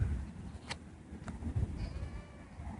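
A goat bleats faintly in the distance over a low, quiet outdoor homestead background, with a couple of short sharp clicks nearby.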